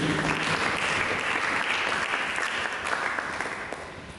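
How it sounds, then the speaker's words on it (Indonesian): A church congregation claps together in sustained, dense applause that fills the room at steady volume, fading slightly toward the end. "Berikan tepuk tangan bagi Yesus."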